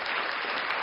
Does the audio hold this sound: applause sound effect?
yes